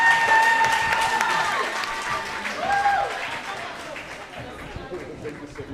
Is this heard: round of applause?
yes